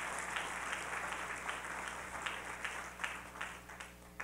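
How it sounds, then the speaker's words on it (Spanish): A church congregation claps for the Lord during a Spanish-language worship service, a steady wash of many hands with a few sharper claps standing out, filling the room at moderate loudness without talk. "Dele fuerte ese aplauso al Señor"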